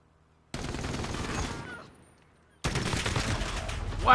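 A gun firing in Call of Duty Modern Warfare, two loud bursts of rapid automatic fire separated by a brief lull, close and punchy.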